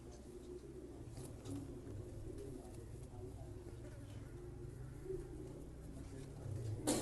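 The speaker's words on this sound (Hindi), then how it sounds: "ये भी अजहर भाई ने मुझे गिफ्ट दिया था ये कबूतर।" Soft, low pigeon coos repeat close by, murmuring over a quiet background with a faint voice now and then.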